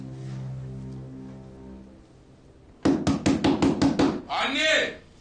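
Loud, rapid knocking on a door, a burst of about six sharp blows followed by a scraping thud, after a stretch of quiet talk in Turkish.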